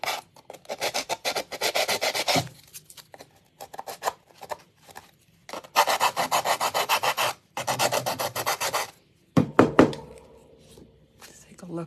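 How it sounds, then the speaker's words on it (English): An emery board sander rubs a surface in repeated bursts of close, loud, raspy strokes separated by short pauses, with a few knocks near the end. "I'm just going to go around the whole thing with my emery board sander."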